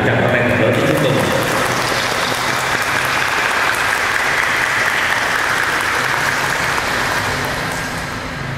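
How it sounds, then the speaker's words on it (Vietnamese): Wedding guests at a Catholic ring-exchange ceremony give loud, sustained applause, a dense crowd clapping that holds steady for several seconds before easing slightly at the end. "Tất cả chúng ta cùng vỗ tràng pháo tay thật lớn để chúc mừng"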